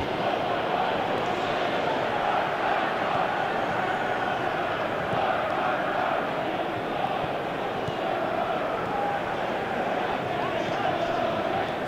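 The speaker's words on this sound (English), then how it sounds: "Crowd appreciates good football all round there." Steady roar of a stadium crowd in the PES 2017 football video game, Leicester City against Juventus, a dense continuous wash of cheering and murmur held at an even level throughout.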